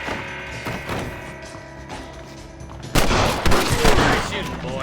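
Gunfire in Red Dead Redemption: a sudden loud volley of sharp shots breaks out after a quieter stretch of tonal background sound, with several cracks in quick succession.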